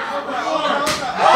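A sharp open-hand chop lands in a women's professional wrestling match at RISE 5, one loud smack over steady arena crowd noise that swells afterward.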